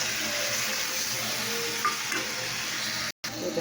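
Onion, garlic, turmeric, chili powder and cumin paste frying in a pan, a steady close sizzle that runs throughout with faint stirring scrapes, no voices over it.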